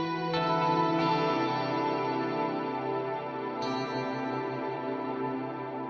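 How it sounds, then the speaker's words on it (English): Electric guitar played through a Source Audio Ventris reverb pedal on a pedalboard, sustained chords ringing with a lush, washy reverb tail and a couple of fresh strums, steady and fairly loud with no voices. "My next reverb is this one."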